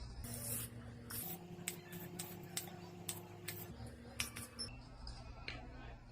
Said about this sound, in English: I'm going to use this Living Proof Perfect Hair Day Heat Styling Spray.